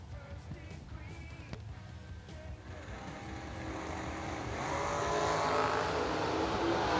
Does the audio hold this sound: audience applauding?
no